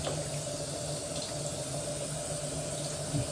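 Running water pours steadily while a chicken is rinsed during a bath, a constant close splashing wash with no pauses.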